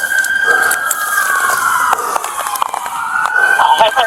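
Emergency vehicle siren wailing nearby at the scene of a multi-vehicle crash after a police pursuit, a loud sweeping tone that glides down and rises again, with clanking and bursts of activity over it.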